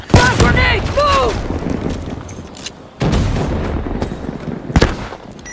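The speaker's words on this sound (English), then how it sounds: "Fire grenade!" A fire grenade goes off in Call of Duty Black Ops 3 multiplayer, with sharp booms and bursts of gunfire in loud repeated hits, plus a second blast around the third second and another near the end. Voices from the game sound early on.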